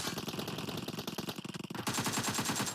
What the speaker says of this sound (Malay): Tembakan dilepaskan.